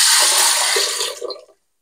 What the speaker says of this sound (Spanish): Las cubro de agua fría, siempre fría